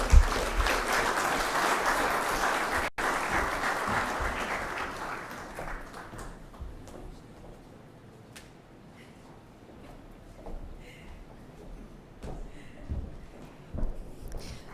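Clapping from the audience at the Caribbean Broadcasting Union's opening ceremony swells loudly at first, then fades over several seconds into a quiet room with scattered faint sounds.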